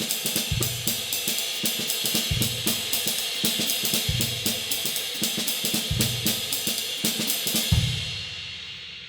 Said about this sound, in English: A little bit faster, played repeatedly, it sounds like this.